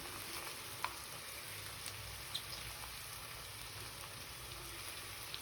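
Tomato and green chili sauté in a pan with a soft, even hiss of sizzling oil. It is quiet and steady, with a few faint clicks from stirring.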